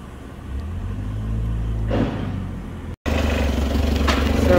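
A car rolling slowly around a yard stacked with wooden pallets produces a continuous low engine rumble, close and loud, that swells slightly and then carries on steadily after a brief cut, with no one speaking.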